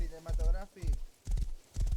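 Horse hooves clip-clop in a video game, a quick rhythmic run of hoofbeats that repeats in bursts under loud, excited shouting from a player.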